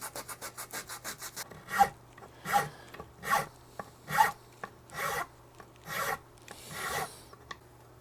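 Rasp or sandpaper worked by hand across a wooden guitar body, first a quick run of short strokes, then slower, longer scraping passes in an even rhythm, close and fairly quiet with no voices.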